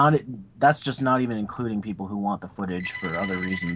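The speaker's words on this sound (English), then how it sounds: "Sorry, that's my phone." A telephone rings during a podcast conversation, its bright tone emerging near the end beneath steady, continuous talk.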